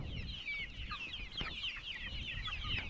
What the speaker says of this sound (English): we have livestock around, and we have our chicken around